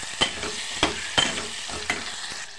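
Drumstick pieces stirred into sautéed masala in a pressure cooker, a spoon scraping in a few distinct strokes over a steady low sizzle, close and without talk.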